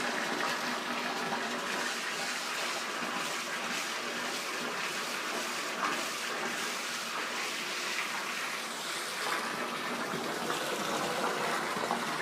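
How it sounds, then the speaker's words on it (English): A homemade bath bomb held under the water in a bathtub fizzes and foams, giving a steady, close hiss of bubbling and sloshing water that runs unbroken for the whole stretch, with no voices over it. "hold it underneath the water and see if it gives us any bubbles"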